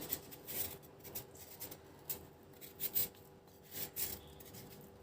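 A knife cuts carrots for mixed pickles, giving quiet, close scraping and rasping strokes in irregular bursts.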